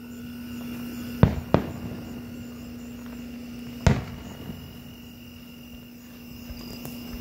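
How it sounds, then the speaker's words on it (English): Fireworks on a Labor Day evening in Speedway, Indiana pop as a few sharp, moderately distant bangs: two close together early, one later. A steady insect-like hum continues underneath. "Got us a miscellaneous fireworks show tonight."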